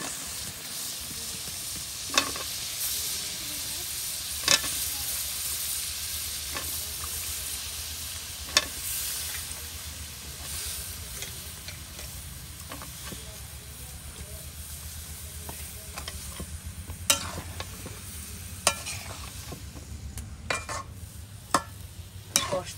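Eggplant and potatoes stir-fried in spice masala, a continuous close sizzle with scattered sharp clicks of a spoon against the pan at irregular intervals throughout.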